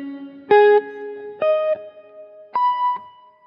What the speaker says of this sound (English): So when I turn the delay, the reverb off, you get one note, the next note,